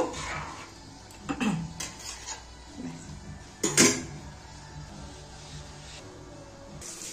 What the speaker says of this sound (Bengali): একটু নেড়ে দেব।